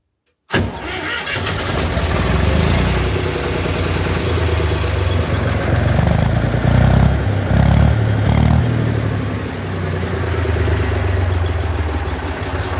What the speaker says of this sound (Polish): Jeszcze wam go może odpalę, posłuchacie jak on sobie teraz pyrka.